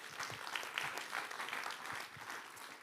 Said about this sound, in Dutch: dus applaus daarvoor.